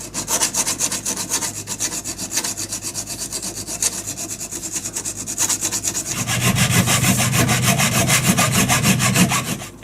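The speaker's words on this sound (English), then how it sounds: "I'm basically just going to chop off a bit here using a file" A hand file works a piece of aluminium in steady rhythmic rasping strokes, close and fairly loud, growing heavier and fuller toward the end.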